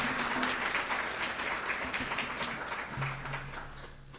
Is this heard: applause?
yes